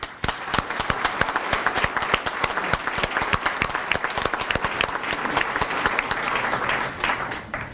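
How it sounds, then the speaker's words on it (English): An audience at the North Hempstead town inauguration gives the town team a warm round of applause, a steady, dense wash of clapping that carries on for several seconds before tapering off. "they all deserve a huge round of applause"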